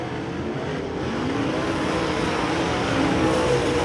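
Dirt track race cars roar around the Devil's Bowl Speedway oval, a dense continuous engine drone of several cars at once, steady and moderately distant with no voices over it.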